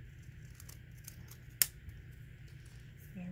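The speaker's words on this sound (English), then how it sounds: "Take the scissors and you just" A single crisp snip of scissors through paper midway, faint rustling before and after, close and quiet.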